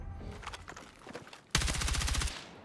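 M4A1 rifle firing in a video game shooter, short scattered bursts followed by a loud sustained full-auto stream of rapid, evenly spaced shots, close and punchy.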